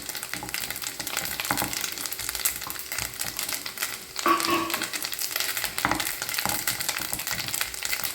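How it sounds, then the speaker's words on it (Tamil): Grated coconut sizzling and frying in hot ghee for a Kerala nendran banana payasam, a steady crackling hiss with occasional stirring scrapes, close and continuous with no talking. "நல்லா தேங்காய் பொரிய ஆரம்பிக்குது பாருங்கள் நெய்"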